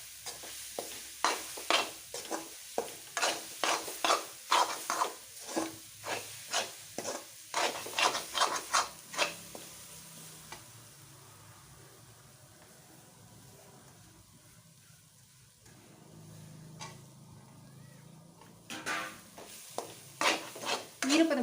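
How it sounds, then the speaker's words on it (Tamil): Grated coconut roasts in ghee in a pan for coconut burfi, a spoon scraping it in quick repeated strokes over a faint sizzle, pausing to a quiet hiss midway before the scraping resumes. "திருவின தேங்காயை இதே நெய்யில் போட்டு நல்லா வறுத்துக்கலாம்"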